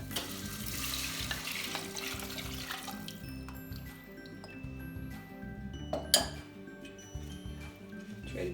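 Tarhana soaked in water is stirred into toasted tomato paste in a pot, giving a steady sizzle with scraping, clinking spoon strokes against the pot and a sharper clink near the end.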